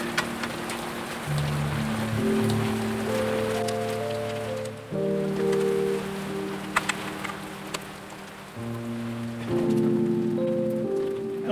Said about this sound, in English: Ooh, lots of rain.